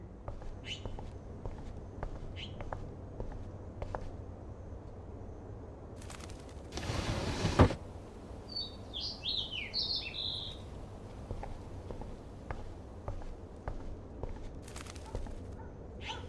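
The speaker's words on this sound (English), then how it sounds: "Oh no, that poor little bird has been trapped in here." Small trapped bird in the video game Life is Strange, chirping in short faint high calls over a quiet room tone, with a few soft footsteps and one louder broadband burst partway through.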